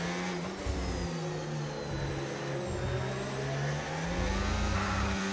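Revving F1 car engine in the racing game F1 25, a loud, continuous high-pitched whine whose pitch rises and falls as the car accelerates and shifts, steady throughout with no talk.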